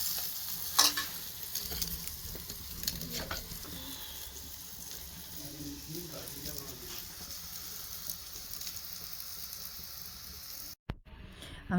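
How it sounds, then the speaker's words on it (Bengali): Eggplant frying on a small mini stove, a steady low sizzle with occasional stirring scrapes running throughout, fairly close, with brief louder clicks near the start and a short break near the end. "আমার ছোট মিনি চুলায় সুন্দর করে বেগুন ভাজি করলাম।"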